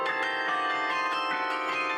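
Carillon bells played by two 13-year-old students in a duo, a sustained ringing wash of overlapping bell tones with new strikes every quarter second or so, bright and resonant throughout.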